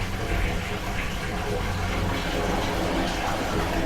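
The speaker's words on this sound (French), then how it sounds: "Oh, mais c'est plus une chasse d'eau" A toilet flushes in a haunted-apartment video game, a dense rushing gush of water that fills the whole stretch loudly and without a break.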